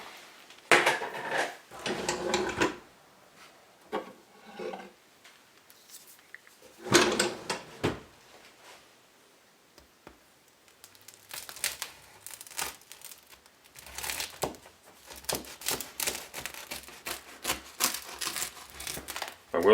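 A knife saws into a freshly baked loaf of bread, giving crunchy crust crackles in separate bursts with quiet pauses between, close by.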